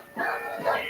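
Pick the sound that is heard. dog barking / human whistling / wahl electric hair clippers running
dog barking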